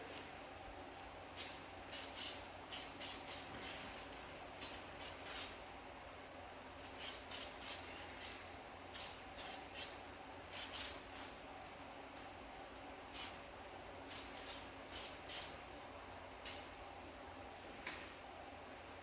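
Red VHT aerosol paint is sprayed onto 2019 Nissan Maxima SL brake calipers in short, faint hissing bursts, repeated at irregular intervals with quiet pauses between them.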